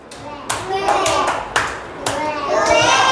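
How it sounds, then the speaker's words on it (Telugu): Children in a first-grade maths class clap loudly in several sharp bursts, with children's voices chattering over and between the claps. "గట్టిగా క్లాప్స్ కొట్టండి"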